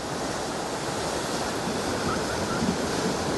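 Continuous rushing wash of surf from parallel, man-made waves in a water park wave pool, broad and steady, like waves rolling in under wind noise.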